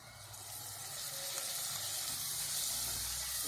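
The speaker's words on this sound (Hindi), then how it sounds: "अब हम इसमें डाल देते हैं बारीक कटे 2 टमाटर" Two finely chopped tomatoes hit a hot pan of spiced masala for a restaurant-style moong dal, giving a steady, close sizzle and hiss that builds slightly and carries on without talk.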